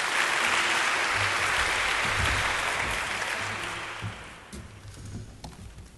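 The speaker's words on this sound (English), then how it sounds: "Please give a big round of applause for Professor Pamela DUBE." University audience applause welcoming Professor Pamela Dube at a media society event, a full round of clapping that gradually thins and dies away, leaving scattered claps and room noise.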